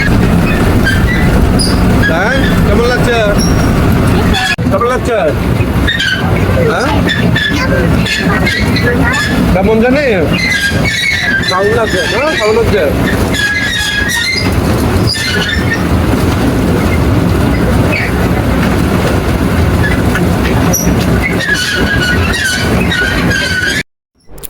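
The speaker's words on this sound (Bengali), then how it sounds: "প্রিয় রাইড ট্রেন উঠলাম" An amusement ride train at a resort rolling along, with continuous rumble, wheel squeals and clatter up close, while people talk and children chatter throughout.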